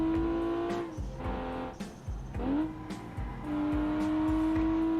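Car in the BeamNG driving game, a 1,400-kilo car on sports tires, hums steadily with its engine tone dropping and rising through gear shifts, with brief tire squeal, loud and continuous.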